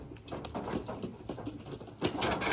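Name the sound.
pigeons cooing in a loft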